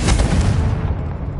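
Confringo fire spell in Hogwarts Legacy: a loud, booming blast with a rumbling low end that opens sharply and then gradually fades.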